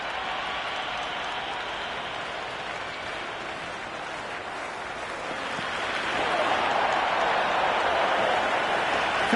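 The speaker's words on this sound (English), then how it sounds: "It's a great crowd, full of voice, and they're just enthralled in the play" Stadium crowd noise from the Cricket 26 video game during an Ashes test match, a steady broad roar that swells louder toward the end, with a commentator's voice mixed in.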